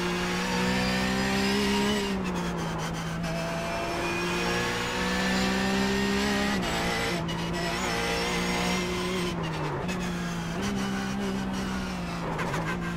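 Porsche 911 GT3 Cup racing simulation at the Nürburgring Nordschleife, its engine droning loud and steady with rising and falling pitch through gear changes and brief tire squeal across the lap.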